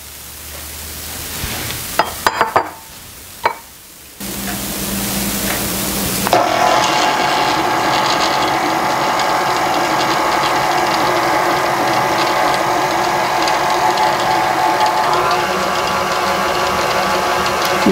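An electric mixer whirs steadily and loudly as it creams ingredients for a chocolate cake batter, preceded by a few sharp clicks and knocks before the motor settles into a continuous hum.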